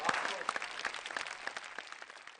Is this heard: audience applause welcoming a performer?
yes